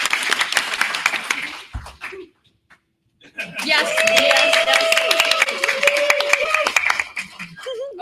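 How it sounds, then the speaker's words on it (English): An audience at a convention event claps in applause, with dense clapping and scattered cheers over which a voice speaks, stopping briefly before resuming loud and sustained. "a round of applause for the questmaster"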